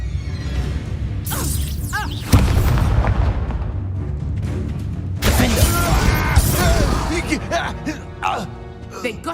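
The Confringo fire spell in Hogwarts Legacy bursts with deep booming explosions and whooshing blasts, layered with combat sounds and shouted voices over a dense game soundscape.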